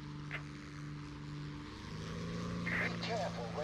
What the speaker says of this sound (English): Sometimes you need a quick, short-term increase in flight speed. This can be achieved by using the afterburner.